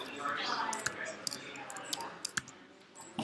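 Computer keyboard typing in a room, scattered sharp key clicks in irregular bursts, fairly quiet, with people talking around it.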